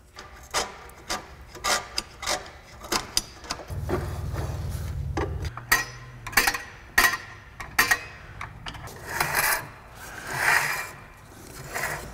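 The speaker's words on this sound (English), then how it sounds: "Why not adjust the parking brake while I'm here?" Someone adjusts the parking brake on a Honda Element, making a close series of irregular metallic clicks, scrapes and rubbing sounds, with a short low grinding stretch partway through.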